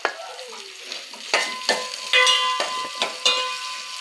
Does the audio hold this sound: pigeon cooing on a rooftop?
no